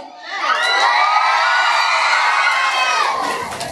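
A crowd of children at a Children's Day event cheers and shouts together, loud and sustained for several seconds before fading slightly at the end.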